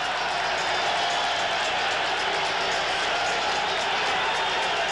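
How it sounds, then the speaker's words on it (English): A packed arena crowd at a championship boxing match roars a sustained ovation for Roberto Duran entering the ring, a loud, steady wall of cheering and clapping with no break. "What an ovation. Listen to this crowd."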